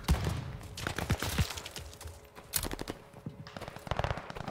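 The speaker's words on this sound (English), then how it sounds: "Oh, this is a shotgun." Repeated shotgun blasts in Call of Duty Vanguard, sharp loud bangs in irregular bursts mixed with other gunfire and in-game thuds, with no talk over them.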